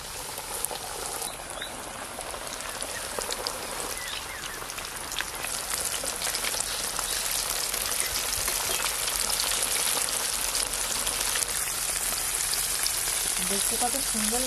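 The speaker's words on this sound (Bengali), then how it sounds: "তেলটা কেমন বুজবুজ করছে" Chicken pieces fry in a pan of bubbling oil, a dense, steady sizzle and crackle held close and loud throughout, with a faint voice talking in the background.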